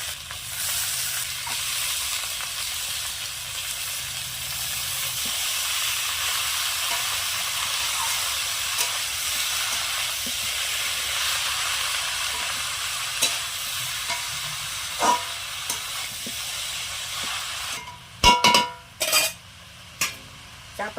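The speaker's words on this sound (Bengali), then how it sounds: "চাপা দিয়ে দিয়ে বাঁধাকপিটা আমি ভালোভাবে কষে নেব" Cabbage fries in a pan with a continuous, close sizzle that runs steadily, joined near the end by a few sharp clatters of stirring against the pan.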